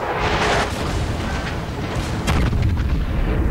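Heavy main-gun salvos from the battleship Yamato in a naval video game boom and rumble continuously, dense and loud, with sharp cracks standing out over a constant low roar.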